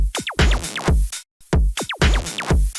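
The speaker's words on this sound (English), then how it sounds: "For the transitions, these FX are really important." Transition FX from the Sampacho sample pack for a track: a repeating pattern of sharp pitch-sweeping risers and falls over punchy low hits, loud and close, briefly cut to silence mid-phrase before the pattern repeats.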